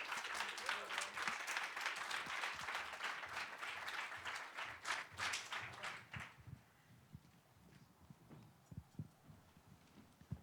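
An audience at an anti-war committee panel event applauds four speakers, a dense wash of clapping for about six seconds that thins to a few scattered claps and quiet room noise.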